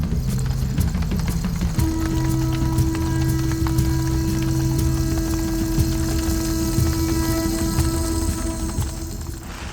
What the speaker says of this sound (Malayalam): ഒരുവിധം കുറഞ്ഞു നിന്ന മഴ വീണ്ടും കൂടിയിട്ടുണ്ട്